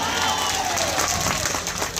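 Loud, continuous applause fills the stretch, broad and steady like a crowd clapping together at a live comedy show, with no gaps or lulls.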